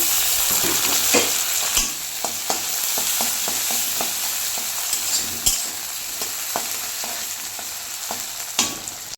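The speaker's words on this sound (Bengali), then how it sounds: "এখন আমি টমেটো কুচিগুলো দিয়ে দেবো।" Chopped tomatoes hit a pan of fried onions and sizzle steadily, with close scraping stir strokes and occasional clinks of a spatula over the hot frying, no voices.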